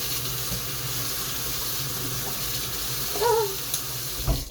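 Water runs steadily from a kitchen tap into a sink, a continuous close hiss with a few brief clinks near the end.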